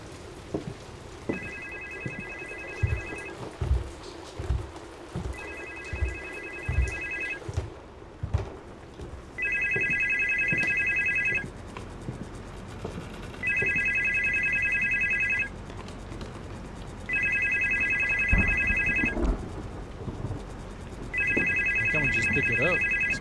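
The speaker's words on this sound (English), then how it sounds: "There's the phone." A telephone rings in a horror video game, about six loud electronic ring bursts spaced at a steady rhythm, with a person talking over the first rings and a soft rain-like patter underneath.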